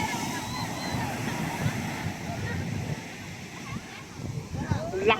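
Strong ocean waves break and wash ashore at Dingalan, Aurora, a continuous rushing surf roar with wind buffeting the microphone, and a person talks faintly over it.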